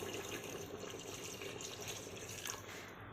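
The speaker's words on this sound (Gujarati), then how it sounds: "હવે એમાં રસ્સો કરવા પાણી નાખશું 1 લોટો." Water runs and splashes steadily into a vessel, a soft continuous pouring sound at low volume with no talking.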